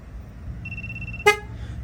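A Ford commercial vehicle, during a tire-pressure sensor relearn, gives a single quick, clear horn toot, close by, after a faint steady electronic tone.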